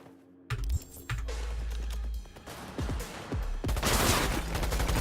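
Gunfire erupts in the Cyberpunk video game: a sudden loud burst after near silence, then sharp shots and rapid volleys of varying density, with a dense rattling stretch near the end.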